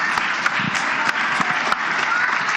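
An audience applauds at the opening ceremony of a customs conference, steady dense clapping filling the room with a few sharper claps standing out.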